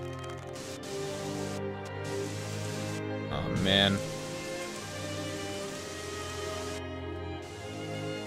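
Steady rain falls in the video game Gothic 3, a constant broadband wash behind layered game music, with a man briefly exclaiming over it.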